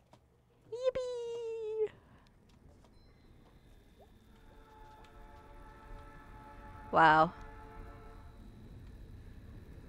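A distant train horn sounds once in a quiet nighttime scene from the video game Night in the Woods, standing out briefly over a low steady rumble, with a short spoken exclamation earlier.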